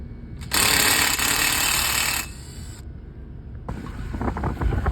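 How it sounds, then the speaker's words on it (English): A small impact driver with a 3/8 bit backs out blower bracket bolts on a Trane rooftop unit, with a loud, close rattling burst followed by a pause and then a second hammering run. "take off these bolts for the blower bracket, 3/8 bit with my little impact"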